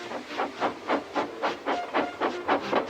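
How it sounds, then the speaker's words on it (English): A steam locomotive in a live-action remake of the engine James pulling the express blows off steam. About ten rhythmic hissing chuffs come evenly paced and fairly soft, with no other sound. "with much noise and blowing of steam, got ready to back onto the train"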